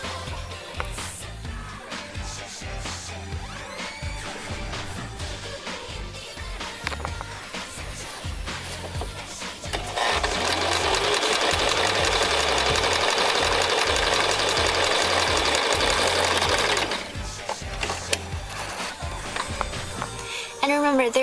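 A domestic sewing machine runs a straight stitch through a fabric scarf, a steady rapid whirring hum lasting several seconds in the middle, with a person talking before and after it.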